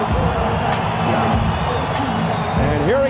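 Boxing arena crowd at a 1999 heavyweight bout between Mike Tyson and Francois Botha, a steady moderate cheer and murmur filling the hall, with scattered whoops rising near the end.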